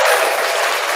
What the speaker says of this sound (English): That sounds less like applause and more like somebody flushing a toilet.